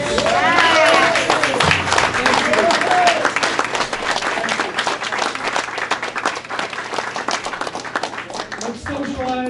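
A standing crowd at a hall of fame ceremony gives its honorees a loud, sustained ovation of dense clapping, with cheers and voices mixed in, before it tapers off near the end.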